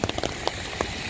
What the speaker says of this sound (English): Too much rain here.